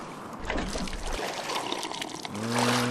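Water being sipped in Miasmata, heard as soft pouring and trickling splashes with a gentle liquid gurgle, moderately quiet, followed by a brief tonal chime-like sound near the end.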